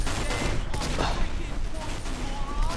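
Dense, rapid gunfire in a Team Fortress 2 match crackles loudly and continuously, with bursts of shots stacked over one another in a close, chaotic firefight.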